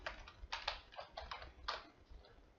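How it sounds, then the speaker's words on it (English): Close, quiet keystrokes on a computer keyboard, about a dozen clicks in a quick uneven rhythm, with no talking. "I'm going to put on the caps lock key, and then I'm going to type buttermilk."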